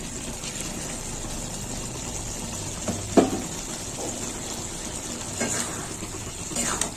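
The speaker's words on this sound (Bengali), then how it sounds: "ভেজে রাখা খোয়া ক্ষীরটা এবার দিয়ে দিলাম" Fried khoya kheer stirred into a pan of peas, a steady hiss of cooking under a few soft scrapes and one sharper knock of the spoon, close by with no talking.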